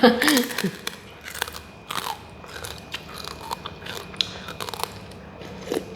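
Crisp pork rinds being bitten and crunched close up, loudest at the start and then continuing as lighter crackly chews, with a voice speaking partly over the crunching.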